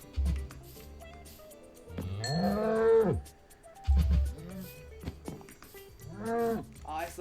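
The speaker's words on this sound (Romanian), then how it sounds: "Și gata ferma de vaci." Cows on a Minecraft cow farm give several drawn-out moos, fairly close and distinct, spaced a second or two apart over quiet background game music.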